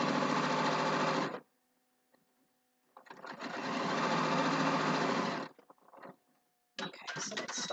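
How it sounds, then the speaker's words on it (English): A sewing machine stitches fabric in two long, steady, loud whirring runs, with a quiet gap between them and brief mechanical clicks before a third short burst starts. "I'm just going to sew a decent distance so that you can"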